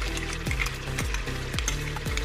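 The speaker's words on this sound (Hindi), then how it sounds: "अब 1-2 मिनट के लिए इसको भी डाल के भूनना है मुझे" Ground fried onion paste sizzles in a pot of urad dal and mutton, a steady frying hiss broken by four evenly spaced scraping strokes of a spoon against the pot.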